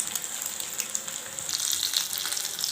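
A sandwich fries in oil in a pan over low heat, a gentle, even sizzle with bubbly spattering that grows a little stronger toward the end, heard alone and fairly faint.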